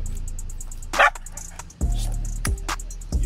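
Dog barks in the distance, heard as a few short, sharp yips and woofs spread across a few seconds amid outdoor ambience during a leash walk.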